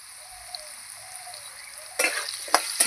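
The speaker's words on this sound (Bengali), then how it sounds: "আলুটা এবার লাল লাল করে ভেজে নেব আমি।" Potatoes sizzle steadily in hot oil in a pan, a constant close hiss that thickens near the end as a few scraping stirs and clattering bursts join in; no one speaks.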